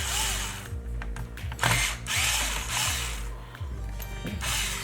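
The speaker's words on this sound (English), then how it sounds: "Let me try to drill," Power drill whirs in short bursts while boring out a screw on a BMW E39/E38/E53 instrument cluster, close and steady with brief stops and a ratcheting, geared undertone.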